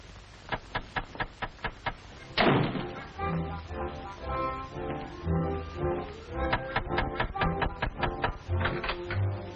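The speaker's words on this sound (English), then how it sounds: "Someone's knocking at the door." A 1940s radio-comedy door is knocked on repeatedly, with rapid crisp raps in quick bursts followed by a heavier thud and continued clattering knocks, loud and close.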